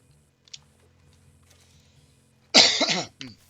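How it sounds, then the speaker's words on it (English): A single loud, harsh cough close by in the game Red Dead, followed by a short second cough, after near silence with faint clicks. "Coughing."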